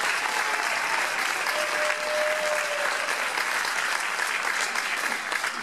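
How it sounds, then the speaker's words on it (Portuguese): An indoor audience applauds after a performance at a choir and music show, a steady, even wash of clapping hands throughout, with faint crowd murmur beneath. "Um aplauso também, fantástico"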